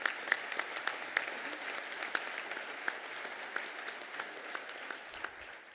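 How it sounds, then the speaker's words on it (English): Steady applause from a graduation ceremony audience for the musicians of a chamber ensemble, a hall full of even clapping with scattered sharper claps standing out, sustained for several seconds before easing off. "We might give them a round of applause."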